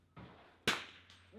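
A sharp crack of a rimfire .22 shot at a steel target, with a single loud close report followed by a faint distant ring.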